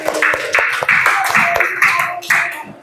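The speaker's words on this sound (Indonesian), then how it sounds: "Tepuk tangan untuk Eli" Classroom students clap for a classmate named Eli after her presentation: a short run of about six evenly spaced, crisp group claps, close and fairly loud, with a little voice underneath.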